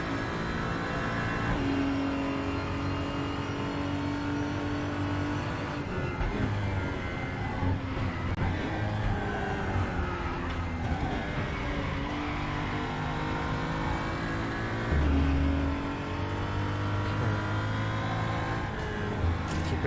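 A BMW M235i in the RaceRoom Racing Experience sim racing game drones and revs steadily, its engine note rising and falling through gear changes with tyre and wind whir, loud and continuous throughout.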